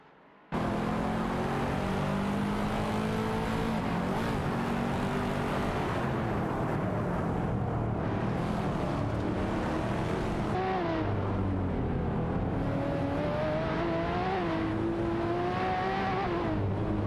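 Race car engines in a racing video game roar continuously and loudly, with revving pitch that climbs and falls through gear changes and overlapping engine tones as cars run close together. No talking is heard.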